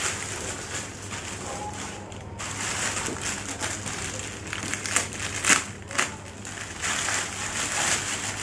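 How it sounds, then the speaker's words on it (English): A Spyderco H1 knife slices open the box holding a 5-litre jerry can, giving soft crinkling, scraping and crunching cardboard sounds at low level with a few sharper snaps. "So with my trusty knife, this is from Spyderco, the H1. It's gonna help me with the unboxing of the 5-liter jerry can."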